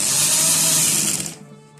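A sewing machine stitches a seam in shalwar fabric with a loud, fast whirring run that slows and stops near the end.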